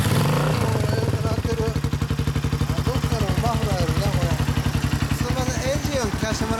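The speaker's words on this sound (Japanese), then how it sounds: "エンジン音聞かせてもらえる？" A 1995 Kawasaki Estrella RS cafe-style motorcycle with an aftermarket muffler idles close by, a steady low thumping single-cylinder pulse with mechanical clatter, while people talk over it.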